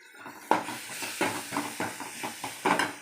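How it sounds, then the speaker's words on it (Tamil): Ginger garlic paste sautéing in a hot pan, a steady sizzling hiss punctuated by rhythmic scraping strokes of a spatula, close and moderately loud. "இஞ்சி பூண்டு பேஸ்ட்டு கொஞ்சம் போட்டுக்கலாம். வதங்கட்டும் நல்லா."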